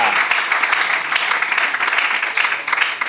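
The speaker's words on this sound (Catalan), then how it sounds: "li donarem aquest aplaudiment a Rosa Gilobert Antolí" A crowd at the closing ceremony of a popular running race circuit applauds steadily and loudly throughout, a dense wash of many hands clapping at once.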